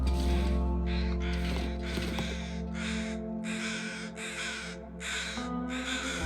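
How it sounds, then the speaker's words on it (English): Crows in The Long Dark survival game, a series of about eight loud, harsh caws in a steady rhythm over a low droning background, with no talk. "where are those birds coming from?"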